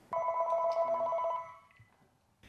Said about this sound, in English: phone has been ringing nonstop